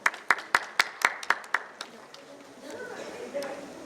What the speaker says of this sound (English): Please give a big applause to our President, sir.